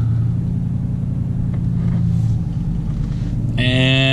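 A vehicle drives around a ten-acre commercial property with mulch beds around a building, giving a steady low engine rumble close by throughout, with no talking.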